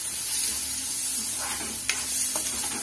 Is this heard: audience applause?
no